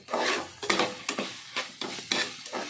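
Vegetables and tomatoes frying with masala in a hot pan, sizzling with repeated scraping stirs, about six strokes in an uneven rhythm, close and moderately loud.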